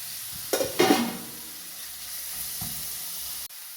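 Finely chopped onions sizzle steadily in a hot pan, with a couple of sharp utensil clatters near the start before the frying continues alone.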